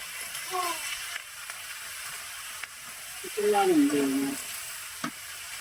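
Pumpkin curry with green chili cooking in a pan, a soft continuous sizzle with occasional utensil clicks, while a voice or squeaky tone rises briefly over it twice.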